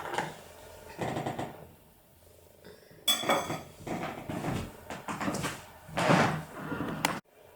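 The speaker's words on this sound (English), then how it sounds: "I was trying to cut a slice here." A knife cutting a slice of red velvet cake with cream cheese frosting, with clinks of cutlery against a plate and dish scraping in short bursts, close and moderately loud, ending abruptly.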